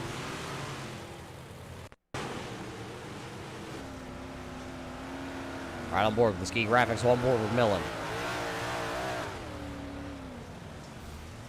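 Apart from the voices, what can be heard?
big block modified race cars racing at Limaland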